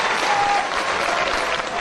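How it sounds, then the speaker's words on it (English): Wrestling arena crowd at a CM Punk versus Samoa Joe match cheering and applauding in a steady, dense roar of clapping and voices throughout. "This crowd getting behind CM Punk nonetheless as Samoa Joe tries to get back to his feet."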